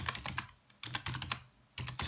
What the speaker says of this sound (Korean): 데이터 입력할 때 마우스를 이렇게 누른 상태에서 글자를 치면 됩니다.